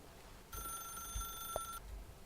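A telephone rings in the video game Stanley Parable, one sustained electronic bell tone lasting just over a second amid quiet room noise and a couple of faint clicks.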